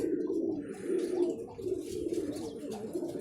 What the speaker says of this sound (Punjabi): ਆ ਗਿਆ ਬਈ ਕਬੂਤਰ ਘਰੀ